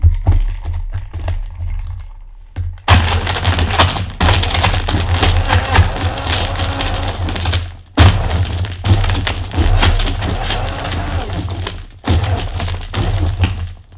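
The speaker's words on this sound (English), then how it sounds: "So now we're going to put the cap on it, and we're going to blend this guy." A blender crushes ice for a Blue Hawaii cocktail, running in loud, harsh bursts with brief pauses between them, close and with no voices.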